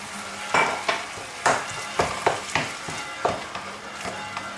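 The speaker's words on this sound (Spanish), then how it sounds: "Añado los 100 mililitros de vino blanco." Bolognese sauce for Italian-style macaroni sizzles in a pan after white wine is added, with a spoon scraping and stirring in a regular rhythm of close scrapes over the steady frying hiss.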